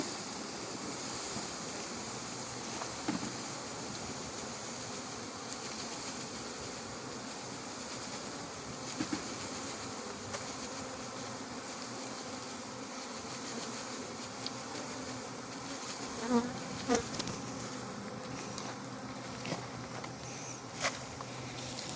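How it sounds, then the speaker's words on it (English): A steady, dense drone of many honey bees buzzing close by during a package bee installation into a hive box, for a long stretch, with occasional soft knocks and taps. "The main process here is we've got bees everywhere."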